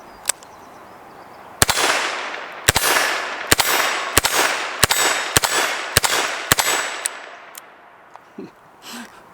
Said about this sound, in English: today we're shooting a Smith & Wesson Model 648 chambered in .22 Magnum